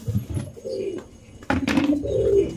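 Pigeons coo on a rooftop where feed is being put out, soft throaty calls repeating close by in a steady run, with some handling noise mixed in and no talk.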